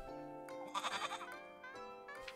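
A goat bleats in the video game Little Goody Two Shoes, a wavering, quavering cry heard over a soft sustained musical backdrop, fairly quiet and brief.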